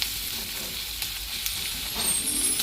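Onions and green chillies sizzle in hot oil in a pan for a Bengali fish egg curry. The frying makes a steady, bright hiss with a few soft stirring scrapes near the end, and no voices are heard.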